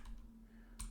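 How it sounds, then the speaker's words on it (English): A computer keyboard is typed on in a few quick clicks, one near the start and a short cluster near the end, close and soft over a faint steady hum, with no talking. "we're going to type in the address, the IP address of our Splunk server"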